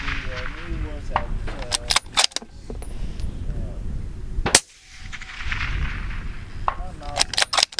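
A suppressed 26 PRC rifle fires outdoors in a series of sharp, close cracks, a few together and some spaced out, with a loud single report near the middle and people talking between shots.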